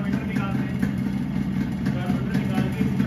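A 1995 Yamaha RX100 motorcycle's two-stroke engine idles steadily nearby with a rough, pulsing burble, under moderate background noise throughout.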